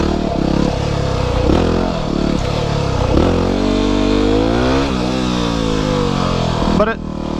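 Yamaha WR250R trail motorcycle revving hard through a wheelie on an abandoned road, engine pitch climbing and sweeping up and down in close, loud bursts, with a voice talking over part of it.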